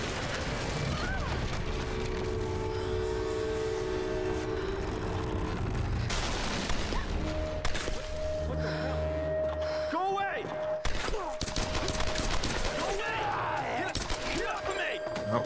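Gunshots and booming impacts in Tomb Raider, mixed with game music and mechanical effects at a fairly even level, with scattered sharper hits toward the end.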